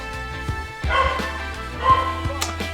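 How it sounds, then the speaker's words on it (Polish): A dog barks in short bursts, a few sharp yips spaced across the moment, fairly close, over a low steady hum. "Też słyszycie tego psa?"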